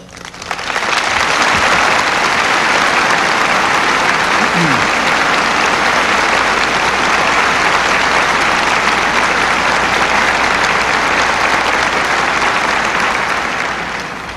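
A large crowd at the Oklahoma City bombing memorial service in 1995 breaks into sustained applause, a loud, dense wash of clapping that swells quickly and holds steady for well over ten seconds before tapering slightly.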